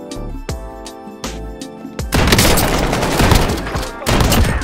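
Shotgun blasts in Call of Duty Warzone: several sharp, loud booms spaced a fraction of a second apart, followed by a denser stretch of rapid gunfire with a player talking over it.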